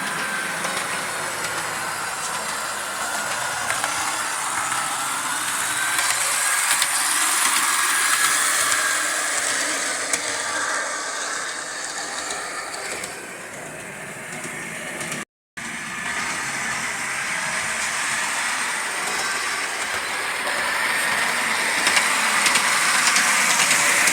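A vintage Lionel M10000 model train runs steadily on its track, giving a continuous close whirring motor hum and rail rumble for a long stretch, with one brief dropout partway through.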